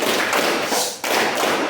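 A 'tepuk diam' class clap in a teacher's lesson: a group claps in a quick, steady rhythm, dense and loud throughout with a brief dip near the middle, and no voices.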